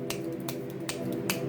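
Several sharp finger snaps ring out at irregular intervals over a steady low hum, each a crisp click, fairly close and moderately loud.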